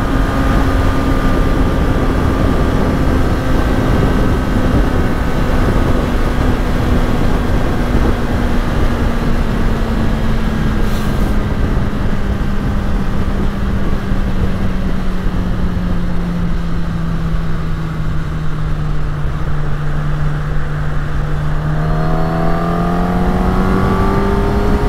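Kawasaki ZX10R sport motorcycle ridden gently, its engine holding a steady low drone with a slight dip and rise in pitch, loud and close, with wind noise throughout and no voices.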